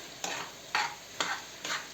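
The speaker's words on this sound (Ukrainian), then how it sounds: "Перемішуємо гарно." Four scraping strokes of a spoon stirring flour into goulash in a pan, evenly spaced, close and fairly soft, over a faint background hiss.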